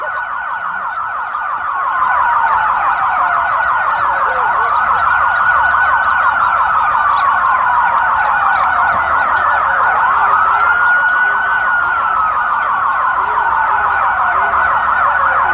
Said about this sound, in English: I would not be surprised if this is LRAD.